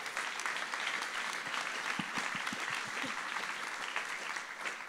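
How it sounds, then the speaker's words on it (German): Applause from a church audience at ICF München, continuous clapping at moderate level with a few louder close claps standing out midway. "Ist ein Applaus wert, oder?"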